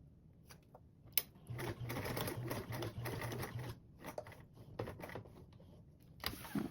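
Sewing machine stitching a diagonal seam on a convertible duffle bag, running in quick steady bursts with short pauses and a sharp click between them, close and fairly quiet.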